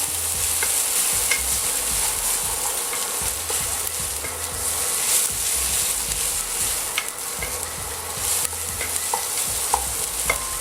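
A pan of chasseur sauce sizzles steadily and close, with the cognac flambé under way, while occasional light scrapes and clicks of stirring cut through the hiss.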